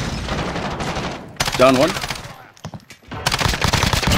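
Rapid automatic gunfire bursts in the video game Call of Duty Warzone, loud and close, with a pause between volleys, while players talk over the shooting.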